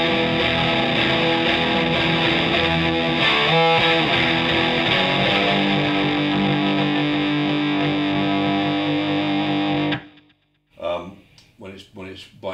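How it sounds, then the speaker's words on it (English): Electric guitar played through the fuzz section of an Empress Multidrive pedal, sustained buzzy chords for about ten seconds, then a few short plucked notes after a sudden cut. "if you just want to hear the fuzz, you can always turn the other two off and just have fuzz"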